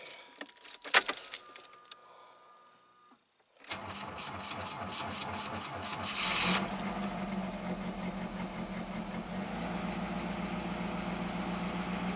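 A bunch of similar car keys jangles sharply in short bursts up close, then a 1985 Pontiac Fiero's engine cranks and settles into a steady idle.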